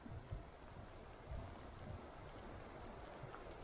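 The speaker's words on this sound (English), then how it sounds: "there's a heck of a lot of water coming down the mountains and hills" Heavy runoff pours down the mountains and hills near Honister in Cumbria, a steady broadband rushing roar heard from a distance with a touch of wind buffeting.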